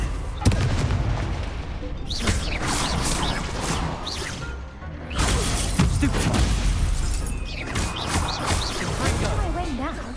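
Spell blasts exploding in the video game Hogwarts Legacy, a fire-blast spell cast in combat, heard as repeated booming crashes and shattering impacts over busy game sound, with a voice shouting spell names.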